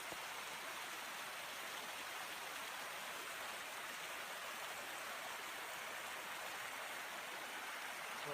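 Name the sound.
river water flowing down from upstream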